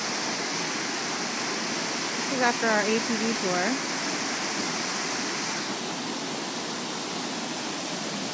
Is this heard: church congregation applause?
no